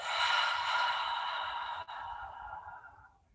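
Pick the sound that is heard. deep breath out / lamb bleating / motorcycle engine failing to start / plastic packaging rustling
deep breath out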